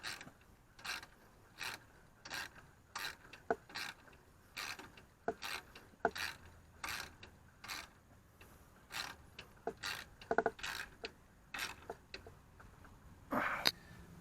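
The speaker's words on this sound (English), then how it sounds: "Now we just put these 4 bolts in, tighten them up." Four bolts being tightened on a Vevor torque converter, giving repeated short ratcheting and metallic clicking bursts in a steady rhythm, close and fairly quiet, with no talk.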